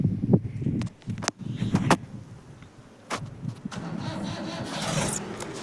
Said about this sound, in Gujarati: ટ્રેક્ટર ચાલુ થઈ ગયું.